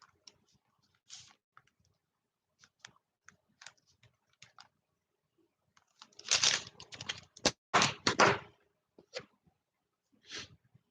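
Typing on a computer keyboard, scattered light key taps building into a brisk, close flurry of clacks in the middle, then thinning back to occasional single keystrokes.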